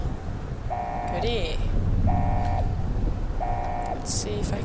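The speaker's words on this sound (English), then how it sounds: "Let's see if I can turn off the alarm from here as well." An alarm in Fallout: New Vegas, set in the Mojave Wasteland, repeats three evenly spaced electronic tones about once every 1.4 seconds, steady and prominent over a low rumbling game background.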